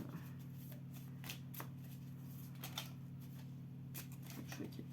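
Tarot cards being shuffled and drawn, a soft steady riffling and sliding of cards with a few crisper flicks, close and fairly quiet over a constant low hum.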